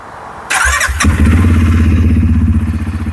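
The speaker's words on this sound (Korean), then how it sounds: "제가 앉아서 시동을 걸어볼게요." A Goes Terrox ATV engine cranks with a brief whirring starter, catches after about half a second, then settles into a loud, close, throbbing idle with a fast, even pulse.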